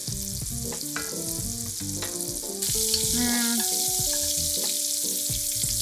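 Squash browning in garlic oil in a pan sizzles steadily, with the crackle getting louder partway through, while music plays over it and no one talks.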